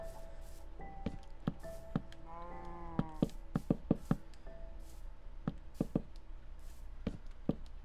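A blocky Minecraft cow gives a drawn-out moo partway through, set among sharp, repeated knocking and clicking game sounds at a moderate, steady level.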